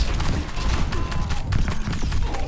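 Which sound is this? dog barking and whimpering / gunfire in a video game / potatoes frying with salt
gunfire in a video game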